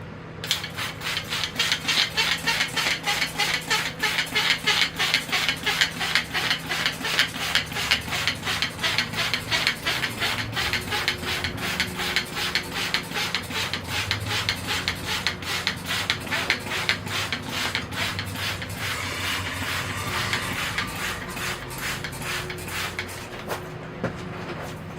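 Rapid, steady clicking spritzes from a trigger spray bottle spraying soapy water onto a dwarf schefflera bonsai, repeated continuously for about twenty-five seconds, close and fairly loud.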